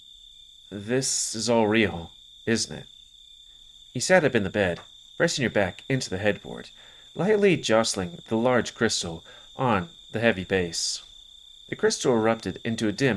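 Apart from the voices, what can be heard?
crickets chirping at night in video game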